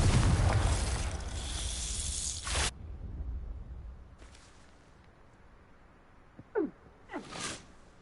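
A Confringo fire spell blasts in Hogwarts Legacy, a loud sustained roaring burst that cuts off abruptly, followed by quieter whooshes and a couple of short sharp magical zaps and pops.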